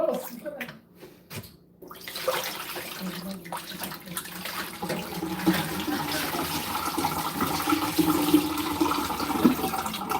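Water runs steadily into a cooking pot in a home kitchen while ramen is being prepared, starting after a few brief clattering sounds and growing into a continuous close gush with a rising fill tone.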